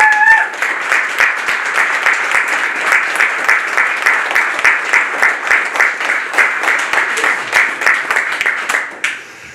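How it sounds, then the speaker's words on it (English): Loud, sustained applause at a military promotion ceremony, a crowd clapping together in a faintly pulsing rhythm for several seconds before fading out abruptly near the end. "Please join me in a loud round of applause."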